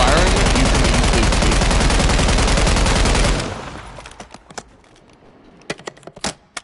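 Automatic weapon fired in Call of Duty MW3: a loud, rapid unbroken burst for about three seconds, then a scatter of sharp clicks and individual cracks as it stops.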